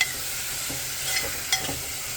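Vegetables for khichdi sizzle and fry in a hot pan, with a steady close crackle and a few soft stirring scrapes.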